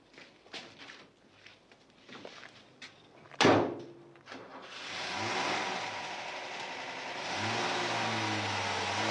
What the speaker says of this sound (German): Hessler fährt gerade weg.